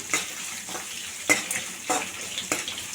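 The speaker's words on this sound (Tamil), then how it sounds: "வெங்காயத்தை சேர்த்து நல்லா வதக்கி விடுங்க" Onions sautéing in a pan for beetroot rice, a continuous gentle sizzle punctuated by regular spatula scrapes and clinks against the pan, close and moderately quiet.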